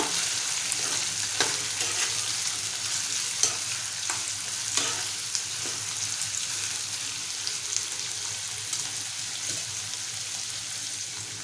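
Chopped brinjal is tossed and stirred into hot oil in a frying pan, giving a continuous close sizzle with scraping stirs and occasional sharper clicks of the spatula, with no talking.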